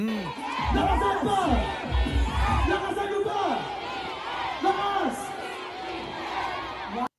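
Thousands of people at a political rally in Bulacan shout and cheer together, a loud, dense crowd roar with rising whoops and bellowed cries that swell and fade across the whole stretch.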